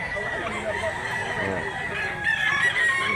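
A 10-month-old gamecock rooster in Mantalungon, Barili, Cebu crows loudly and close by, one drawn-out call rising toward its end, with a voice talking faintly underneath.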